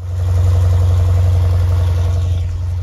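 A Jeep Grand Cherokee SRT8 V8 idles on a cold start, a loud, steady low rumble from the exhaust close by, holding even with slight pulsing and no speech over it.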